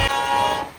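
A train horn gives a brief tonal blast, a steady harmonic toot lasting under a second that starts loud and fades slightly at its tail.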